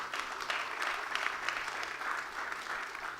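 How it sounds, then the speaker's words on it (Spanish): A church congregation applauds during a Christian sermon, with dense, steady clapping from a sizeable crowd sustained at even loudness throughout. "Denle el aplauso a Jesucristo."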